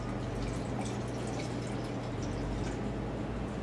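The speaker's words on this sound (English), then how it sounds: "in another container, I will pour 150 milliliters of room temperature water" Room-temperature water pours steadily into a container for film developing, a continuous close liquid wash with faint splashy detail and no talking.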